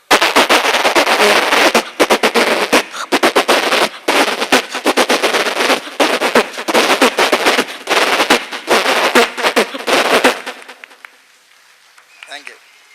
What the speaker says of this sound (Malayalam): മാലപ്പടക്കത്തിന് തീ കൊളുത്താൻ പോവാ